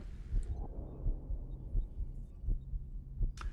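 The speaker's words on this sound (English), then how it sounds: "Once again, we have the heartbeat sound in the background." Heartbeat sound effect in Star Trek: Voyager, a low muffled throbbing pulse repeating steadily about every half second or so, soft and continuous with a faint hum behind.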